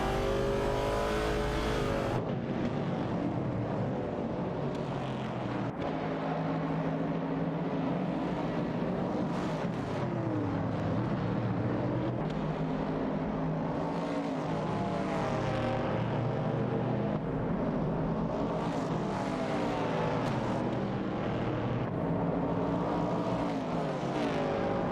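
Race cars in an AI racing event rev continuously, engine notes climbing and dropping through gear changes as several cars pass, a dense unbroken motor drone without talk.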